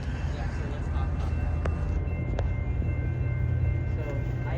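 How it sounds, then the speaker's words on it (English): A pair of Union Pacific freight locomotives departs alongside an outbound Metra double-header in Elmhurst, giving a steady, loud rumble and rolling drone with faint metallic clanks and a busy crowd around. "So those freight locomotives on there are leaving."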